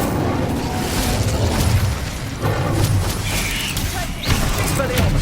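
Casting the Incendio fire spell in Hogwarts Legacy sets off dense, roaring bursts and booming crackles, loud and continuous with several sharper impacts layered through the clash.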